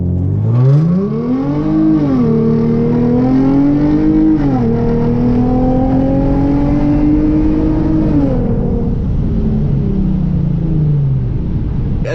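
A Hyundai Genesis Coupe launches from about 2,000 rpm with wheel spin, its engine revving hard and climbing through gears in rising, falling sweeps, loud and close from start to finish.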